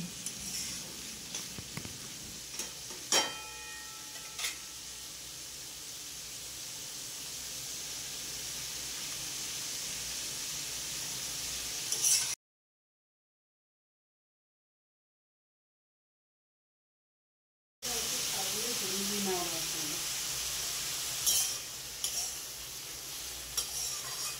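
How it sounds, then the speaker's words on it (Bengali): Carrots, beans and capsicum stir-frying in a pan for egg chow mein give a steady close sizzle with stirring scrapes. The sound breaks off into silence midway, then the frying resumes. "কেটে রাখা গাজর, বিনস, ক্যাপসিকাম দিয়ে কিছুক্ষণ সময় ভেজে নিলাম"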